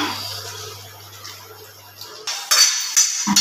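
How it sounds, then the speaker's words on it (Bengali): Utensils scrape and clink against a pan while potol dorma gravy is stirred, a low hum fading out before louder, brighter scraping bursts in the last second. "এটা নিয়ে কিন্তু কন্টিনিউয়াস নাড়তে হবে, না নাড়লে তলাতে একটা ধরা ধরা ভাব চলে আসবে।"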